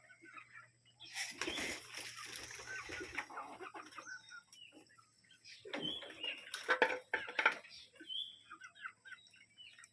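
Pigeons, chickens and ducks kept together on a farm: scattered clucks and bird calls in bursts, some close and some softer, over a faint steady hum.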